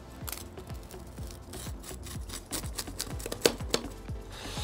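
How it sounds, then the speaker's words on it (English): A baked pizza from a Big Green Egg being sliced, with repeated close scraping and crunching strokes of a cutter through crisp crust at an uneven rhythm, under faint background noise. "we're going to slice it now."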